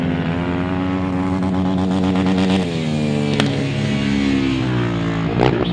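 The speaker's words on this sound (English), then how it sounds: "It's the rev quite high, so it's a bit low geared, that Italian V-twin." An Italian V-twin engine on a grasstrack sidecar revs high and hard, a loud, steady motor drone with rising and falling pitch sweeps close by, running continuously with no talk.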